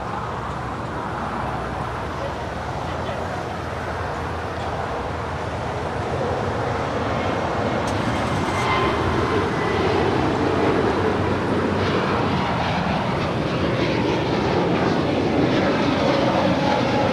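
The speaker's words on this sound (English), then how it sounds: "Spirit Airlines Flight 888 heading to Columbus, Ohio. It's an A320neo is our next departure on 25 right." A Spirit Airlines Airbus A320neo departs LAX runway 25 right, its engines a loud, broad, steady roar that swells gradually over the whole stretch with no voices.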